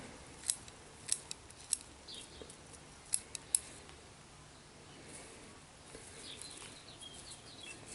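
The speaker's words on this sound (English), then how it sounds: "Cut the upper growing needles." Sharp scissors snip the upper growing needles of a bonsai, several crisp clicks in quick succession, then a pause and a couple more cuts, close up against quiet room ambience.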